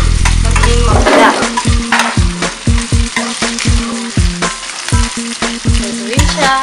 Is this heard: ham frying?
yes